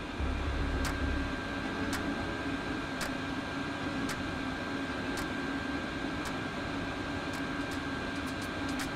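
Chinese 8 kW diesel parking heater running alone with a steady, even mechanical hum and a fixed tone, broken by sharp ticks roughly once a second.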